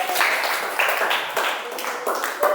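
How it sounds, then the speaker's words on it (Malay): A classroom group claps for a student during a funeral prayer lesson, a short, close, uneven patter of hands with brief pulses. "berikan tepukan untuk Arif"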